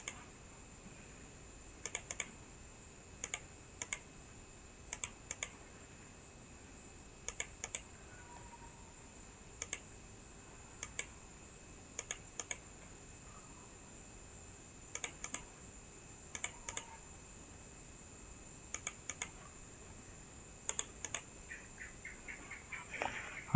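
Computer keyboard typing while drafting a roof plan technical drawing in CAD software: short bursts of clicky keystrokes and clusters of taps at irregular intervals, close and fairly quiet, with no talking over a faint steady background hum.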